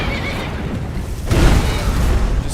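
A horse in the Skyrim video game whinnies loudly and close, its cry swelling midway over a rumbling, noisy game backdrop with no speech.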